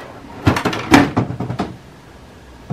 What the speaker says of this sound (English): Close the ink access door.